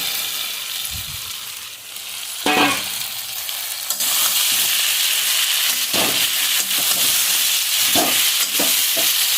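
Fish head, fried potatoes and jackfruit are sautéed together in a hot pan, making a loud, close, continuous sizzle. Repeated scraping and clattering strokes come from the spoon as the mixture is stirred and turned.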